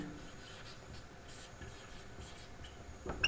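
A pen scratches steadily across paper, writing out an exponent problem in a 9th-grade maths lesson; the soft strokes sound close and faint, with no talking over them.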